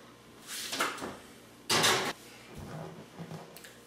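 A home oven door opens and a tray of pumpkin cupcakes goes in, with a couple of clunks and a slide, then the door bangs shut at close range, with no talk.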